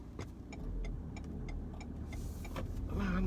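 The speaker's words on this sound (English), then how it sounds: "I just saw that van coming past, bearing down towards me." A van passing on a road on a June evening, heard as a steady broad motor and tyre rumble that builds and swells toward the end as it approaches, with faint ticking in the foreground and no speech.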